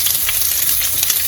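Hot oil sizzles loudly and steadily in a pot, a continuous close crackling hiss with no talking.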